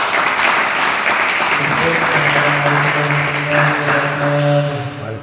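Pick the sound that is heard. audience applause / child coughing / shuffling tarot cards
audience applause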